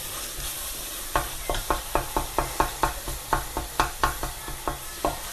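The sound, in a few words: masala spices frying in oil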